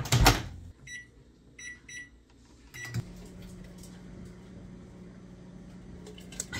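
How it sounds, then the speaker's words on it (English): A steady low microwave hum runs through, with a few clicks and beeps early on and a louder thunk near the start, heard up close. "I'm gonna microwave these little bad boys for one whole minute."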